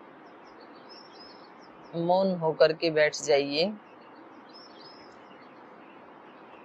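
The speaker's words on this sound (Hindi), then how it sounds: "पक्षी चहचहा रहे हैं।" Faint birdsong chirps in calm outdoor surroundings beside the Alaknanda river, heard briefly at the start and again near the end, with a voice speaking a short line in between.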